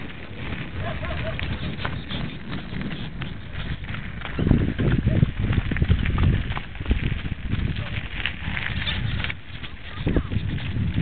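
Horse hooves clip-clop steadily on a ground path during a ride, close and continuous, with people talking over the rhythm and outdoor noise.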